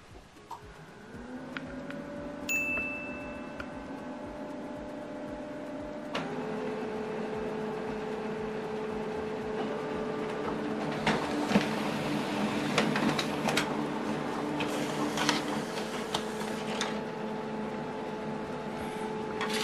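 A Brother DCP-L3560CDW printer whirs and hums steadily printing a test page, with mechanical clicks and paper-feed rattles building partway through as the page runs, no talking.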